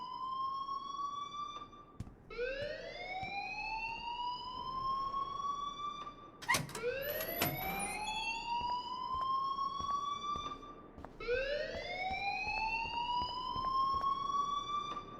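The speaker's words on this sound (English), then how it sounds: "please turn off that alarm since that's your job" A wailing alarm in Life is Strange Remastered rises and falls in repeated siren sweeps, loud and continuous across the stretch, with a few sharp clatters midway.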